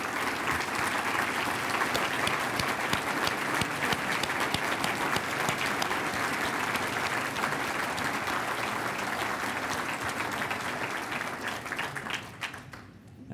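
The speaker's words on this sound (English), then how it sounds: "So please stand up and let's give them a great round of" A large standing crowd gives a long, sustained round of applause for city employees at a State of the City address, the clapping dense and loud before tapering off at the end.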